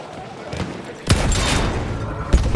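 Gunfire in the Battlefield 1 World War I shooter, two sharp booming shots about a second apart, the first followed by a long rumbling tail, set over steady battlefield ambience.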